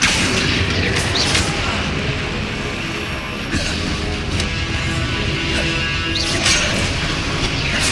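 Confringo blasting spell explosions in the game Hogwarts Legacy, loud crashing booms on a dense, continuous action soundscape with a few sharp bursts.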